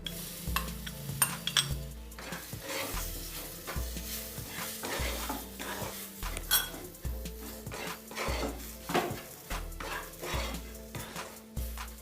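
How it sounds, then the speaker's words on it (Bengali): Banana pieces frying with grated coconut in a pan, a continuous sizzle broken by repeated metal spatula scrapes and clinks against the pan, close and fairly steady, with no talking. "এবার কলার টুকরোগুলো দিয়ে দিলাম"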